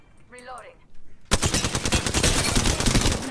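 Sustained rapid machine-gun fire from a shooter video game bursts in loudly after a short spoken line and hammers on continuously to the end.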